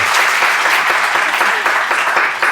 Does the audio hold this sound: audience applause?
yes